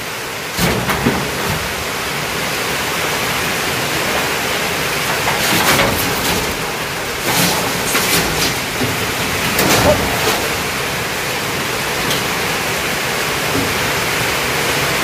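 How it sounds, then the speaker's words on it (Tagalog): Heavy rain pours down at a house under construction in the Philippines, with a steady, loud, dense hiss that swells in a few brief bursts throughout. "At malakas-lakas ito na ulan."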